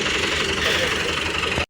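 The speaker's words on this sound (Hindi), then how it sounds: "बाबा जानी वो ट्रैक्टर लेकर जा रहे हैं।" A tractor engine runs loud and steady in a corn field during the maize harvest, a continuous rough drone that cuts off abruptly at the end.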